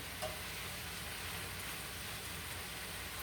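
Rustic meatballs sizzling and frying in a pan with spiraled vegetables, a faint steady crackle with no talk over it.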